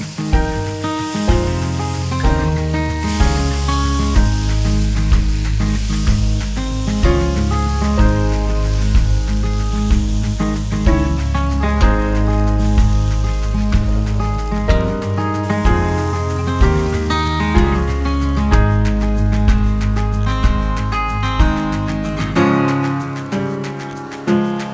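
Dosa batter sizzles on a very hot tawa griddle, a steady hissing spray of frying. It sits beneath loud background music that plays throughout.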